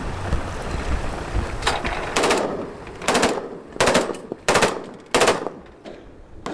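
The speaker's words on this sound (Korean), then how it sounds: "실제 중국어선에 접근 가능한 고속단정에서 K1 등 개인화기 420여 발을 발사했습니다" Coast guard K1 rifles and other small arms fire from a high-speed boat during a shooting drill, loud bursts of automatic gunfire repeating about five times over a steady rush of wind and engine noise.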